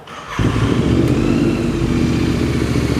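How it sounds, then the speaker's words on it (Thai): Royal Enfield Continental GT650 from 2020 with an aftermarket Thai-made exhaust starts up, then settles into a loud, steady, deep idle rumble, heard up close with no talk. "เดี๋ยวฟังเสียงท่อคันนี้กัน"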